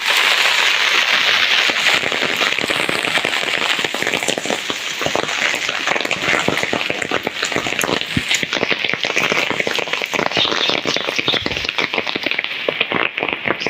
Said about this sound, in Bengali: ছাতায় যে পানির শব্দটা পড়তেছে এরকম টিনের চালেও কিন্তু পড়ে।